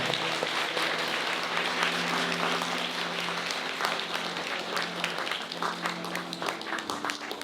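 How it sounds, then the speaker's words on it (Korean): Guests applaud during a wedding ceremony at a hotel, a continuous roomful of clapping that holds steady for several seconds and thins slightly toward the end, with a voice faintly beneath it. "뜨거운 박수 부탁드립니다."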